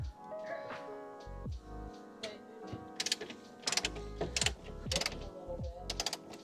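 A wrench works at a spinning bolt on the subframe brace of a 1992 Acura Integra GSR, giving clicking, rattling metal ratchet sounds in uneven bursts close by, with rising clatter toward the end and no talking.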